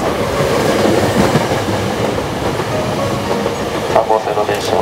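A Hankyu Kyoto Line local train pulls into Katsura station during the morning rush, a loud steady rumble with rhythmic wheel clatter and brief brake squeal near the end.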